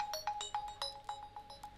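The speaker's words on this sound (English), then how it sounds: "So, I set up my ringtone." Custom ringtone playing on a flip phone: a quick run of bright electronic beeps in a repeating melodic pattern, fairly faint and alone, with no talk.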